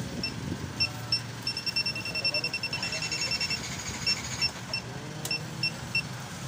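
Short electronic beeps from a motorcycle alarm remote repeat over a Yamaha NMAX 155 engine idle and background chatter, chirping in quick bursts at a steady moderate level.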